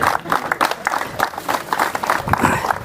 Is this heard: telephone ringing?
no